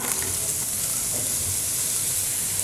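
Onions frying in melted butter and a dash of olive oil for mushroom risotto, a dense steady sizzle and hiss close up with no voices.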